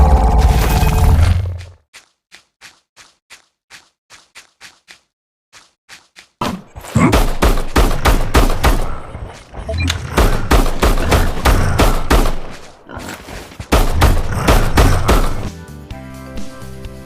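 Gunfire in The Survival Days, a third-person zombie shooter survival game, starting with a heavy blast, then a string of spaced single shots, then dense, loud bursts of rapid fire with impacts and game effects.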